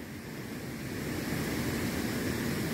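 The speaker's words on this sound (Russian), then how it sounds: "на половину дороги вода течет по Московской" Floodwater rushes steadily along a street in Yalta, a continuous broadband roar, close and fairly loud with no talk, building slightly as it goes on.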